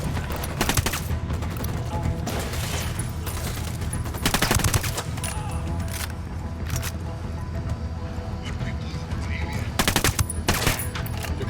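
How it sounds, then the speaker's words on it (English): Sustained gunfire from Santa Blanca cartel sicarios in Ghost Recon Wildlands, loud and dense automatic bursts running throughout, with heavier volleys swelling around the fourth and tenth seconds. "Those Sicarios are shooting."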